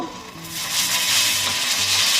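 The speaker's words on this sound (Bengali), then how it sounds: "এদিকে পেঁয়াজ ভেজে নিলাম আলু দিলাম" Onions and potatoes fry in a pan with a close, steady sizzle that swells after the first moment and holds, under a faint low hum.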